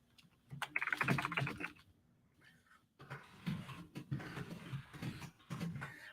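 Fingers typing on a computer keyboard in a quiet room, a quick run of clustered keystrokes, a short pause, then another longer burst of clicking, close and fairly soft.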